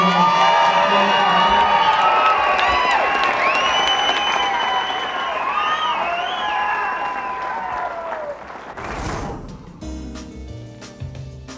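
A pool hall crowd applauds and cheers the women's champion at the 2006 US Open pool final, loud dense clapping with whoops that gradually fades, then a brief burst of noise before a quieter stretch.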